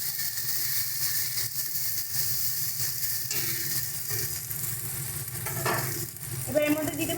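Dried chilli, cumin and coriander powders sautéed in a pan for a fish roe curry, heard as a steady close sizzle with intermittent spatula scraping and stirring, moderately quiet and without voices.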